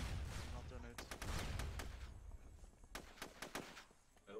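Gunshots in the tactical shooter SOCOM 2, a handful of sharp cracks spread across the clip with a few quick bursts, set against game ambience and low rumble while players talk over the action.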